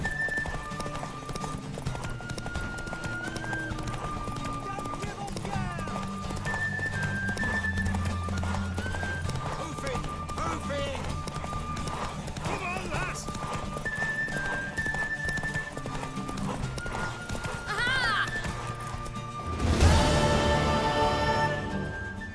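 Horse hooves clip-clop rapidly in a steady gallop in the video game The Witcher 3, with a whinny partway through and a louder burst of noise near the end.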